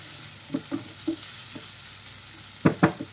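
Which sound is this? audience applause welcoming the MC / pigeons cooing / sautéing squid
sautéing squid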